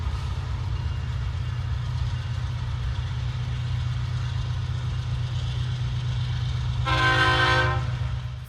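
A train rumbles past steadily at close range with a continuous low roar, and a loud multi-tone horn blast sounds near the end, heard from a house where several people live.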